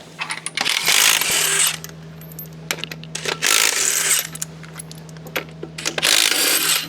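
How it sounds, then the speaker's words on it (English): OTC lifting eyes come off a Cummins 855 Big Cam III engine in a run of close metallic clinks and ratcheting clatter, three loud bursts of tool work separated by quieter pauses with a low steady hum beneath. "First, I'll pull my lifting eyes off again."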